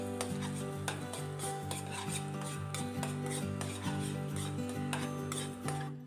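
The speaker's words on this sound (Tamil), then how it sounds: "கை விடாமல் கலரி விட்டுக்கிட்டே இருக்கணும்." A spoon scraping and rasping steadily against a pan while egg podimas, a scrambled egg dish, is stirred, close and continuous with rhythmic metallic strokes over a faint tonal hum, no talking.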